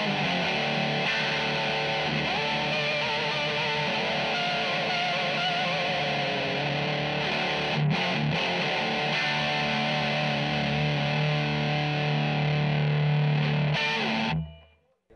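Electric guitar played through the Soldano Overdrive amp model of a Vox VX II modelling amp, dry with no reverb, giving a thick, continuous high-gain distorted tone that rings steadily and then cuts off sharply at the end.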